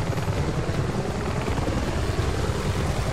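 Steady whirring helicopter rotor and engine drone in the video game Army of Two: The Devil's Cartel, loud and continuous, with no talking.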